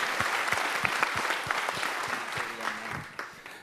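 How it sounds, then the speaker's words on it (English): Audience applause at a film festival panel, a steady wash of clapping from a seated crowd that fades slightly toward the end, with a voice briefly heard near the close. "let's give him a round of applause"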